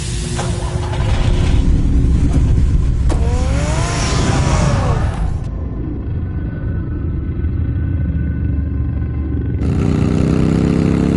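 Car driving off in a Batman video game, a loud steady engine roar with rising revs and a whining pitch sweep, the sound dropping to a muffled rumble before surging back.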